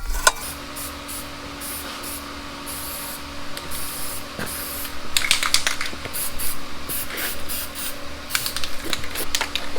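Several bursts of aerosol corrosion-control spray hiss onto a tractor box blade during repair work, short hissing blasts clustered near the end, fairly close, with no talk.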